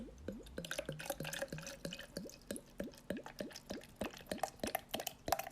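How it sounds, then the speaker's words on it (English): Water poured into a cup nearby, a run of rapid gurgling plops with rising pitch, quiet and without talk. "I'm going to pour some water into my cup right now."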